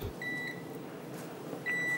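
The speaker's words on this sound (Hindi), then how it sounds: "माइक्रोवेव कर रही है" A microwave oven heating chocolate cake batter, with a low steady hum running throughout and a few clear electronic beeps near the start and again near the end.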